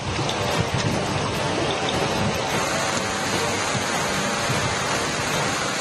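Heavy monsoon rain pours steadily in Chikkamagaluru in the Malenadu region, a dense, unbroken hiss of downpour on surfaces, loud and constant throughout.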